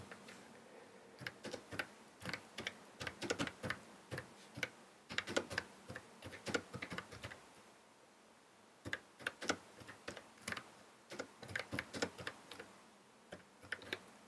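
Typing on the small keyboard of a Psion Series 5 handheld computer, rapid light clicking keystrokes in quick runs with short pauses, close and fairly quiet, with no talking.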